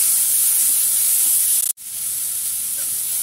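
Carrots sautéing in a pan for chutney, a steady close hiss of sizzling with one brief break midway.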